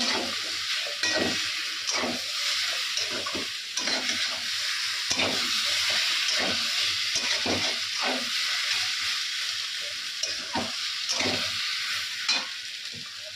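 Curry is sautéed in a pan, giving a continuous bright sizzle broken by regular scraping stirs of the spatula, loud and close with no talking.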